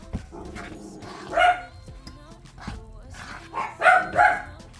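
A dog barks a few times indoors, the barks sharp and fairly close, with people talking in between.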